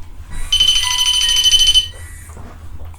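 A loud electronic alarm beeps in a rapid, continuous pulsing tone for over a second, then cuts off, leaving faint room noise.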